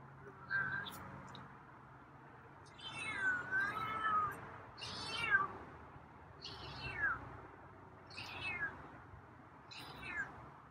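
A cat yawns in a series of drawn-out, meow-like vocalizations, about six in all, spaced evenly and fairly quiet, with a person's voice faintly in the background.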